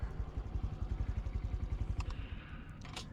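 A Honda mini motorcycle idles with a raspy, slightly pinging exhaust, putting out a steady low throbbing pulse that thins out after a couple of seconds, with a few light clicks near the end.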